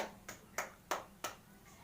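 Children clap their hands in a classroom storytelling session: four sharp, evenly spaced claps, faint and close, with no talking over them.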